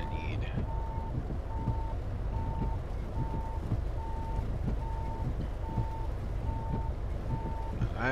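A truck backing up in Euro Truck Simulator 2 sounds a steady series of evenly spaced reversing beeps, about two per second, over a continuous low engine rumble.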